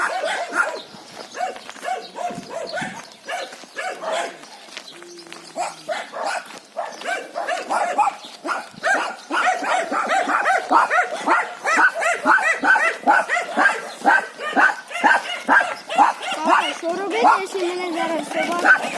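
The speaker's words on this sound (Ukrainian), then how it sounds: "собаки гавкають." Dogs bark and yip repeatedly in a small village in Ukraine, several animals calling at mid distance with quick uneven bursts that grow busier toward the end, over faint background sound and occasional voices.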